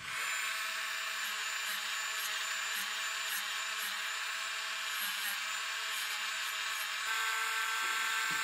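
A plastic brush rubs steadily over a wax-coated old coin being polished, a continuous close scrubbing hiss with faint rhythmic strokes, alone without talk.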